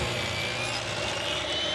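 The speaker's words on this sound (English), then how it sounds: "Once the glue is dry, I'll use my crosscut sled to cut it down to the final dimensions." Table saw with a crosscut sled cutting glued-up wood to final size, a steady loud whine of blade through timber, alone without talk.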